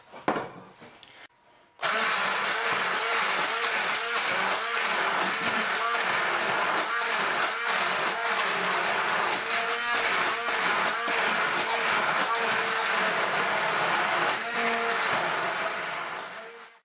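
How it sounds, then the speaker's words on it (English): A loud, steady electric hand blender whirs continuously for about fifteen seconds puréeing split pea soup, its motor pitch wavering slightly as it churns, after a brief quiet start. "I'm going to use my trusty hand blender"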